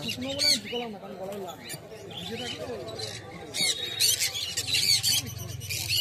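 Small caged pet birds, young and of mixed colours, squawk and chirp constantly in a busy chorus at a pet market, with a low hum and some indistinct voices underneath.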